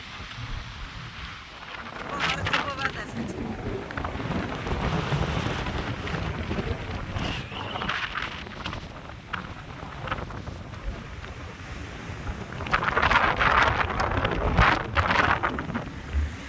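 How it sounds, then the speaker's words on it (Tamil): Strong wind at Dhanushkodi beach buffeting the microphone, a loud continuous roar with rough gusting surges that swell louder near the end. "காற்றுலாம் பிடிச்சி தள்ளுற அளவுக்கு அடிச்சிச்சு காற்று."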